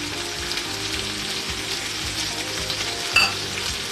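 Chopped onions frying in a pan with jackfruit seeds, a dense even sizzle with soft stirring scrapes and a brief sharp clink near the end, no talking.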